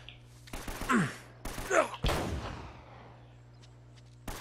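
Two sharp pistol gunshot blasts in the video game Uncharted, followed by a heavier, booming shot with a long decaying tail, over a steady low hum; a faint click near the end.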